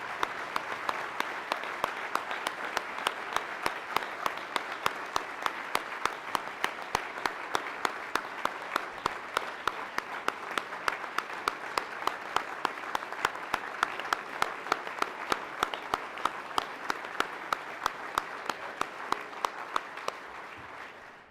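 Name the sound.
applause for Hall of Fame inductees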